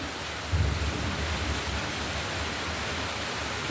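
Steady rain pouring during a thunderstorm, a dense, even hiss with a low rumble swelling near the start, constant and without voices.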